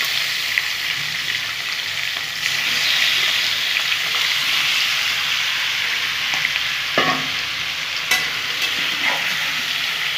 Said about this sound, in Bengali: নুন, হলুদ, সরষের তেল আর গোলমরিচ দিয়ে এগুলো একটু ভেজে নেব